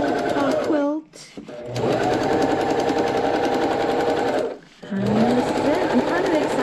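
A sewing machine runs in long steady bursts while stitching a seam on a colorful quilt top. It stops briefly twice and then starts again, loud and close, with a voice talking over it.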